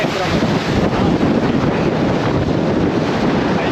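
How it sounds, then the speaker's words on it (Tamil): Strong wind buffets the microphone during an open jeep ride in Kanthalloor, a loud continuous roaring rumble with no breaks. "காற்று பயங்கரமாக அடிக்குதுங்க"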